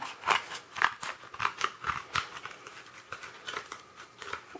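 Scissors snip through cardboard to shape a homemade seed pot, giving a close series of crisp, crunchy cuts in a steady, uneven rhythm.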